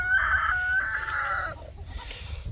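Chickens kept in a backyard coop vocalize close by, with a drawn-out, rooster-like crowing call followed by short clucks, loud and alone with no talking.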